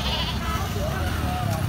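At a crowded cattle market in Uttara, Diabari, a goat gives a brief bleat amid constant loud voices and bargaining chatter close by.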